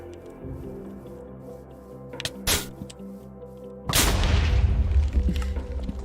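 The Supreme Blaster Tank from a Minecraft MCreator mod fires: a short sharp blast, then a louder explosion about a second later that trails off into sustained rumbling noise, with no talking.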